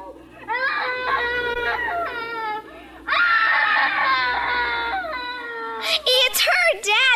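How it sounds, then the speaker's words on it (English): In a vintage radio suspense drama, a woman screams in long, high, shrill wails, then an even louder sustained scream ends in frantic, broken cries. She is close and loud throughout. "It's the screaming woman."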